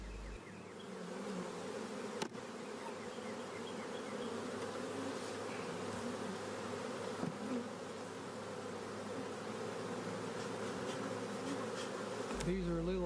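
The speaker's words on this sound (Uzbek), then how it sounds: "Arilar bezovta bo'lmoqda" Honey bees drone in a dense, continuous buzz around hive frames, steady and close throughout, with faint occasional knocks and no voices.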